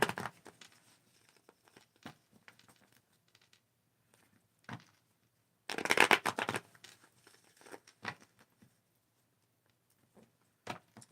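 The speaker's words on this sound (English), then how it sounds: "Let me shuffle these." Soft papery shuffling and riffling of tarot cards, close and quiet, in intermittent bursts with one louder flurry midway and scattered taps between.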